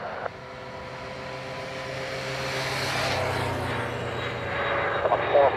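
Aircraft departing runway 28 right at Dublin Airport, a steady jet roar that swells gradually as it passes at a distance, with a passing moped and faint background noise.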